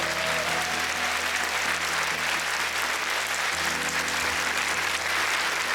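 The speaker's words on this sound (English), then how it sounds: "let's give a roaring and howling applause for our talented" A crowd applauds steadily, a dense wash of clapping that continues throughout without pause.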